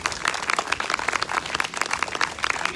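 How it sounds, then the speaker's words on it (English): Applause breaks out for the musicians at a summer outdoor church worship service, a steady crowd of hands clapping close and fairly loud throughout with no talking. "let us give a large round of applause to our special musicians"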